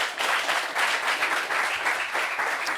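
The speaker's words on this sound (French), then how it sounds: "Applaudissements" A studio audience at a French discussion show on age gaps in couples breaks into applause, a close, loud burst of many hands clapping that swells and pulses unevenly for a few seconds.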